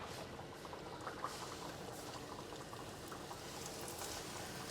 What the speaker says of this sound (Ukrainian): Так, все, масло вже у мене нагрілося і я кидаю їх.